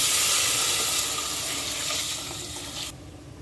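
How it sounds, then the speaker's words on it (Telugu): Tomato juice poured into a hot Telugu-style tempering for tomato charu, a loud hiss and sizzle filling the first few seconds, then easing and cutting off abruptly near the end. "రెడీ చేసుకున్న టమాటా రసాన్ని దీంట్లో వేసేసుకోండి"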